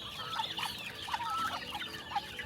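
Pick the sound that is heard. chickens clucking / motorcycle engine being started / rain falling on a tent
chickens clucking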